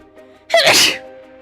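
A single sharp sneeze bursts out close and loud after a brief inhale, then fades quickly, with a faint background hum.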